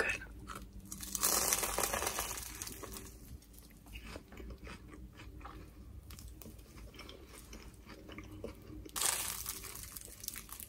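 Trader Joe's croissants crunch and crackle in close bites, with two louder flaky bursts near the start and end and steady chewing between, no talking.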